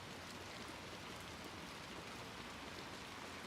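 Steady rain in the video game Little Nightmares II, an even, continuous hiss of falling drops with no talk, soft and unchanging throughout.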